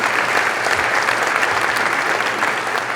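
An audience at a Physician Assistant program white coat ceremony claps continuously, a dense, even wash of applause filling the room with no pauses.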